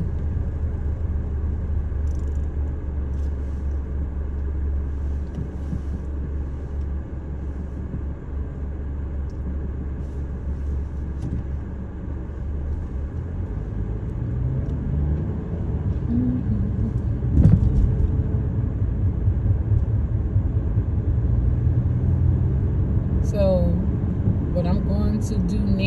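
A car cruising along Highway 309, heard from inside as a continuous low road and engine rumble that swells slightly midway, with a muffled voice at times.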